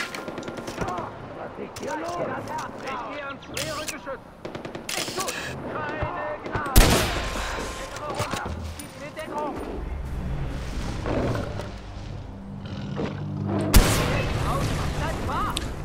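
Far Cry 4 gunfire and a couple of sharp explosive booms punctuate steady talking, with bursts scattered throughout and a louder blast near the end during an outpost attack.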